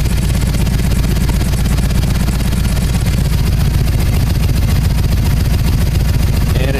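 A Harley-Davidson motorcycle engine with Magneti Marelli fuel injection idles steadily after warming up, a loud, continuous low rumble with an even pulsing beat throughout.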